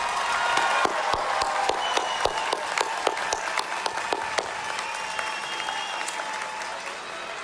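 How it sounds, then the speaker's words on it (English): Sustained applause from a large commencement audience for a graduating college class, dense and steady with sharp individual claps standing out throughout, loud and close. "Let's give the class of 2025 another round of applause."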